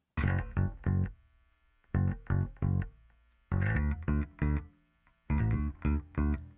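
A bass guitar plays short plucked phrases of three notes, repeated four times with pauses between, its tone thickened and gritty from bass distortion and reverb. No voices.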